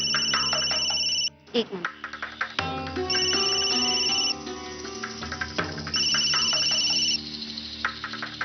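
Phone ringtone chiming in repeated bursts for an incoming call in a home, loud and close, with a brief pause between rings and a person speaking briefly over it.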